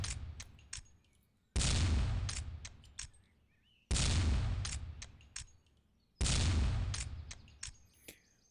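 Three loud shotgun blasts at a skeet shooting tournament, spaced about two seconds apart, each a sharp crack that rings out and fades slowly outdoors, with birds chirping faintly between the shots.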